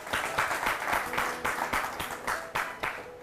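Audience applause at a women farmers' award ceremony, a steady burst of clapping with a rhythmic pulse running throughout, fairly loud and close.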